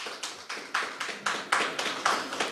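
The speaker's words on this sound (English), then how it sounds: "Clap for that." Audience clapping at a university panel discussion, a sparse group producing distinct, rhythmic claps at a steady beat, moderately quiet and heard alone.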